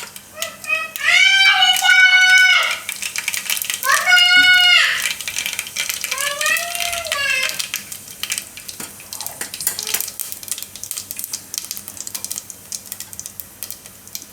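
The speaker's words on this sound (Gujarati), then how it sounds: "તો એમાં આપણે થોડીક રાઈ નાખીશું, થોડુંક જીરું." Mustard seeds and cumin sizzle and crackle in hot oil in a home kitchen, a steady close spitting hiss that keeps going after a voice speaks over its first half.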